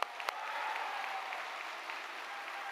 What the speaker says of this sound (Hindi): जोरदार अपने लिए तालियां बजाइए